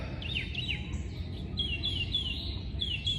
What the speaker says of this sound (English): That's our residential mockingbird. And he likes to make a little noise in the mornings